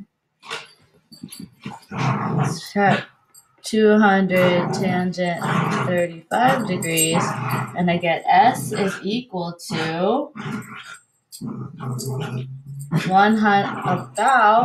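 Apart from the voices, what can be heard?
dog growling while playing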